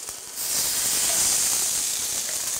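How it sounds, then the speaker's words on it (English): Salmon burgers sizzle in olive oil in a saucepan, a steady close hiss of frying fat that holds evenly after a brief quieter start. "just leave them to sizzle and brown on the other underside for a minute"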